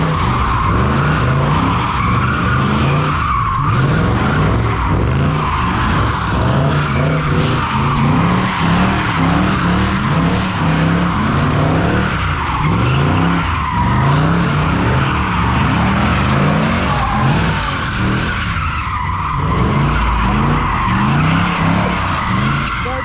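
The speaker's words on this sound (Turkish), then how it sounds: "Şimdi ortamdan dönecekler şu iki araba." Two cars drift and skid in a loud, continuous run, tires squealing and engines roaring hard for over twenty seconds without letup.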